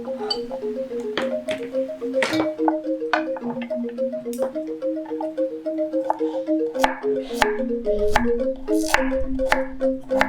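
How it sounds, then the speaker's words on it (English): Fresh turmeric sliced with a knife on a cutting board: a series of sharp, irregular taps and clicks, some in quick pairs, over a soft plucked background melody. "So now let's slice the turmeric."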